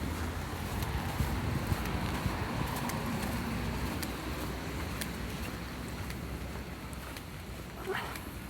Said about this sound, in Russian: Сегодня ветерок на улице.